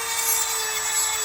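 A file sharpens the chain of a chainsaw mill used for cutting lumber. It makes a single brief, close rasping stroke over a steady tone.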